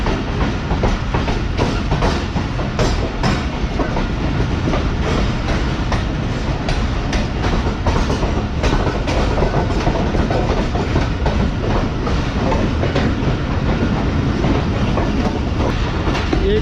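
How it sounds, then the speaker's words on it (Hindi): A passenger train runs through platform 3 of a Pakistani station on the Multan to Karachi line, a continuous loud rumble with steady clickety-clack of wheels over rail joints, close by and unbroken for the whole stretch. "प्लेटफॉर्म नंबर 3 से गुजर रही है हमारी ट्रेन।"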